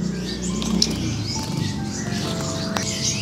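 A brown-chested jungle flycatcher, kept in a cage, gives faint scattered chirps and short calls over soft rustling and background noise, with no talking.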